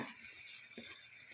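Chicken liver frying in a pan, a steady soft sizzle throughout with a couple of brief stirring scrapes, faint and close.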